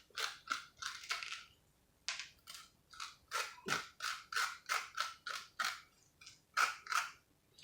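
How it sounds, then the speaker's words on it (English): A spoon scrapes seeds and stringy flesh out of a halved spaghetti squash, making a quick series of short, crisp, close scraping strokes, about fifteen in a row with brief pauses between. "I'm gonna finish scraping that out so I'll get all of that stringy flesh out of the way"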